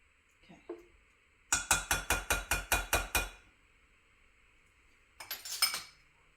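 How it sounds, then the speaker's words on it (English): A whisk strikes the side of a bowl while sourdough pancake batter is mixed, a rapid run of about eight bright, rhythmic clinks, then a shorter scraping flurry after a pause, close up and without talk. "Whisk until just combined."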